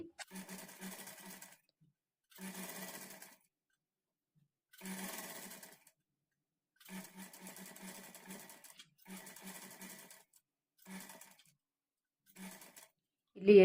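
Sewing machine stitching invisible thread piping for a lining, running in seven separate bursts of steady whirring with silent pauses between, close and clear, alone without talk.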